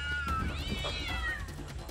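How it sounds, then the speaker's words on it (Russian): Cats fight outdoors at night in a garden, drawn-out wavering yowls and caterwauls rising and falling over a low background hum, fairly close. "Это точно какая-то кошачья драка."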